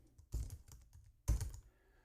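Two short, close clusters of computer keyboard keystrokes, a quick patter of clicks, then a pause and a second burst, alone and fairly quiet.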